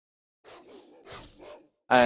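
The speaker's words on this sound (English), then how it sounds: "So I let the dog chase me a little bit instead of walking up there to fight it" A dog in the Baldur's Gate video game barks and growls in a few rough, throaty bursts, close and moderately loud, followed by a brief sharp louder sound at the end.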